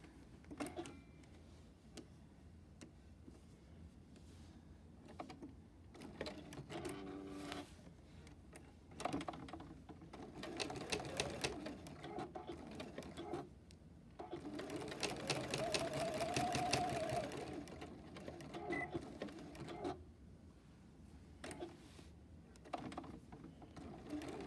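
A sewing machine stitches a folded star quilted hotpad in rapid running bursts, with a faster, louder stretch partway through and quiet pauses between runs, close and clear.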